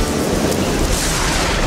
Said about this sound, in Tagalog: Limang araw nang umuulan sa Barrio Matikas.